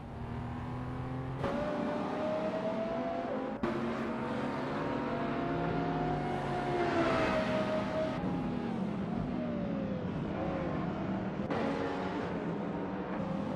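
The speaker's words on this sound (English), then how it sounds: "We are currently in the midst of an exciting race in the racing simulator." Race car engines drone steadily in a racing simulator game, with pitch slowly rising and falling through gear changes and occasional sharp shift cuts, continuous and fairly loud without talking.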